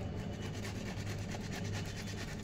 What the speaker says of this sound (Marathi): तर आता मी हे किसणीनं कणी किसून घेणार आहे